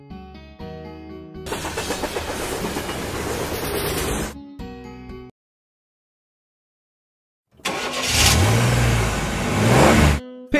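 A train passing, a broad roaring rush that cuts in abruptly and then breaks off into silence, followed by a second loud burst with a low rumbling rise, with no talk.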